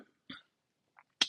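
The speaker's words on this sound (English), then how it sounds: "Just clearing my throat like this in the morning" A person clearing their throat in the morning after COVID, a few short, sharp, close bursts separated by silence.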